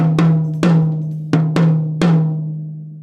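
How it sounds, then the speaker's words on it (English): A high tom on a drum kit, tuned quite high with no muffling, is struck five times at a steady, unhurried pace. Each hit rings with a clear, sustained pitch, close up and loud, with no talking. "So this is our high tom"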